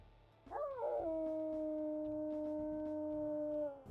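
Deeper wolf howl from a video game: one long, low, steady howl with a brief yipping onset, sustained for around three seconds over quiet background music.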